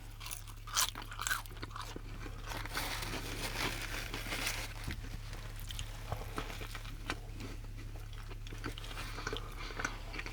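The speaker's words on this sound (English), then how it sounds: "I definitely taste the crispy onions." Crunchy bites and chewing of a McDonald's Big Arch burger topped with crispy onions, close and steady with repeated crisp crunches and soft mouth sounds over a low constant hum, no talking.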